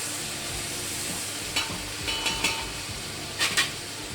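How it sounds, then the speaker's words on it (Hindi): Onions and green chilies sizzle steadily in a pan while cooking for masoor pulao, with a few sharp clinks of a spoon stirring against the metal. "और इसको बस 1 मिनट के लिए फ्राई करेंगे।"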